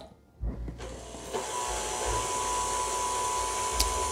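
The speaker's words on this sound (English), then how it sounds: "in a stand mixer, whisk together 5 egg whites to stiff peaks." A stand mixer whisks five egg whites toward stiff peaks, giving a steady close motor whir that starts after a brief quiet moment and holds level, with a small clink near the end.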